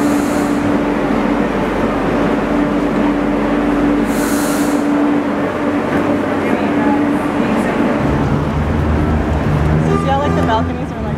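Barcelona metro train pulling away from an underground station platform, a steady loud rumble with a rising tone and a shift in pitch near the end, voices chattering over it.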